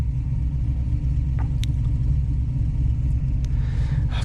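A V8 engine in a manual Holden VN car runs with a deep, steady low rumble, heard from inside the car, with a few faint clicks and rattles over the drone and no talk.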